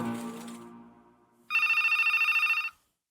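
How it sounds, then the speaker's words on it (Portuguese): A telephone rings with a loud, steady electronic bell trill lasting about a second, starting after a fading low hum and then stopping, heard alone with no talk. "o telefone tocou"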